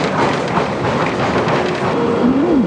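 A Budapest tram on line 41 in 1989 rattles past nearby with a continuous rolling rumble and clatter of wheels on rails, ending in a brief rising metallic squeal.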